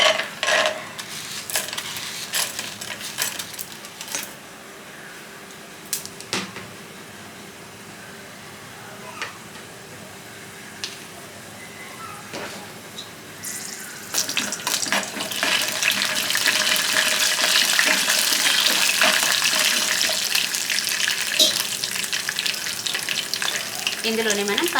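Peanuts, urad dal, chana dal, mustard seeds and cumin fry in hot oil for tamarind rice, first with light scattered crackles and stirring, then a louder steady sizzle near the pan.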